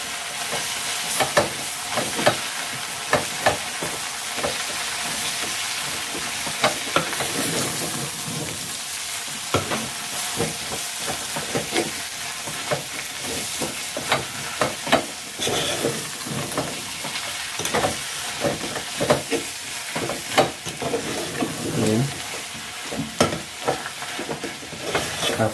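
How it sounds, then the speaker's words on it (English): Tomatoes being stirred in a frying pan give a continuous sizzle with repeated scraping clatters of the spoon against the pan, close and steady over about half a minute. "we will be adding our tomatoes. Then we again mix."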